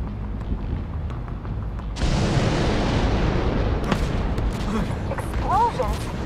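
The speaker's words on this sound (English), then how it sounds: "Explosion? What the hell?" In The Division 2, an explosion hits abruptly as a loud broadband boom and then roars on as a sustained rumble, with faint voices and scattered impacts around it.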